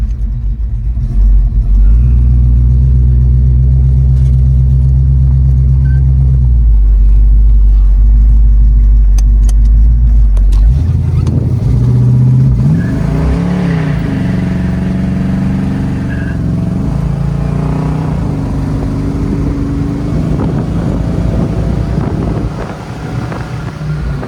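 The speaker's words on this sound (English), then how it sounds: "Engine sure runs nice." A 1969 Pontiac Le Mans convertible's 455 V8 engine rumbles loudly and steadily close by, with a heavy low idle that shifts into a rougher, varying roar partway through, buffeted by wind noise.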